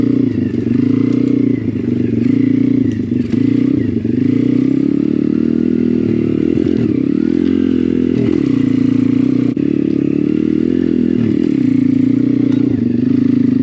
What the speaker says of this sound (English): we took the pit bike through the woods and followed the Talaria to see how it kept up